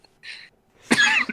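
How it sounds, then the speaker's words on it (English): A single short cough, close and dry, preceded by a brief breathy inhale, with nothing else around it. "Coughing. Wheezing."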